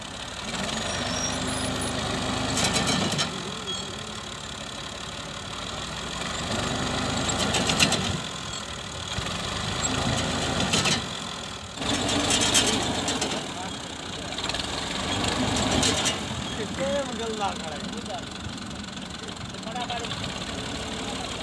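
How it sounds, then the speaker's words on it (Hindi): A tractor reverses on a Punjab farm beside a new tubewell, its engine running with a steady, rough diesel rumble throughout and occasional clanks and hisses, while people talk over it. "ट्रैक्टर ला रहा है बैक करके,"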